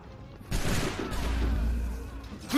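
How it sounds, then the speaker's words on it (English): Musket volleys from soldiers firing down from above in Assassin's Creed III crack loudly and close, a sustained fusillade of overlapping shots with a fresh burst at the end. "Bluecoats firing from above!"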